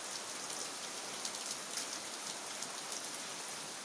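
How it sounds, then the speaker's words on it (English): A sudden heavy rain shower in Goa pours down steadily, dense hiss of raindrops on surfaces, close and continuous with no voices. "Sudden rain, sudden rain."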